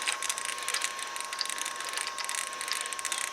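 An OTC or Snap-on installer tool is ratcheted tight on a 1965 Corvette L79 engine, a rapid continuous clicking close by with no voices.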